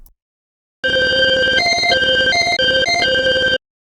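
Phase Plant granular synth pluck with warm start engaged plays a short run of bright, buzzy synthesized notes that step between pitches for about three seconds, loud and alone with no talk.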